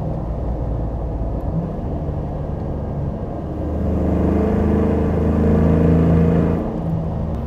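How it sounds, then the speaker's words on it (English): A 550hp LS3 V8 Land Rover Defender in sport mode rumbles steadily, growing louder and fuller midway as the revs rise, then easing back at the end. "I'll put it in sports mode because this just gets better."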